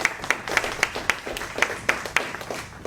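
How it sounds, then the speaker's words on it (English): Scattered hand clapping from a small audience at a Rotary club meeting, a handful of distinct, fairly close claps in a loose rhythm rather than full applause. "So let's give him a big round of applause."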